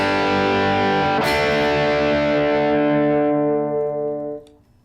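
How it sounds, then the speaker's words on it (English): A single electric guitar chord rings out through a simple overdriven amp with a slight touch of reverb, a thick distorted sustain that holds steadily for about four seconds before a brief fade. "overdriven amp, just with just a slight amount of reverb on it."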